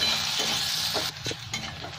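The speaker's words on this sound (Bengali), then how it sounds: "এই পেঁয়াজটা একটু লাল লাল করে ভেজে নেব।" Onions fry and sizzle in a pan for a Bengali fish curry with potato and eggplant, a soft close hiss broken by a few scraping stirs of the spatula.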